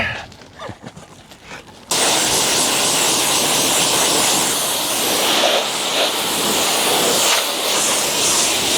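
Pressure washer jet spraying a VW Transporter: after a softer spluttering start, a loud, steady broadband hiss kicks in abruptly and continues close and unbroken.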